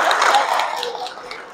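A church congregation claps together at a Sunday service, a dense burst of applause that starts loud and gradually thins out over a second and a half.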